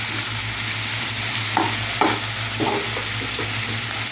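Bitter melon with egg fries in a pan with a steady, close sizzle and a constant low hum, punctuated by a few brief scraping stirs.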